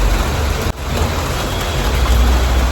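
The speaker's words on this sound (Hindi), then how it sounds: "बाहर बारिश का हो रहा है, बारिश आ रही है" Steady rain falls outside on a morning in Delhi, a dense, even hiss of drops heard continuously with a brief dip partway through, and no one speaking.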